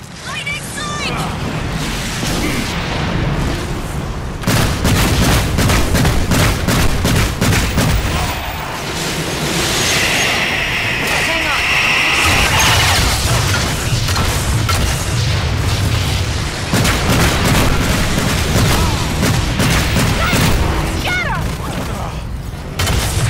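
Parnell's weapons firing in the video game Evolve, dense bursts of gunfire and heavy booms running nearly the whole time, loud and close, with a voice talking over much of it.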